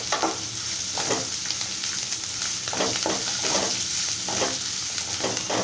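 Onions frying and softening in a pan for Telugu-style curd charu, a steady close sizzle with intermittent stirring scrapes throughout, no voices.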